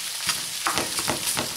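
Italian sausage sizzles and spits in a hot skillet as it browns, a steady close crackle with a few soft stirring scrapes.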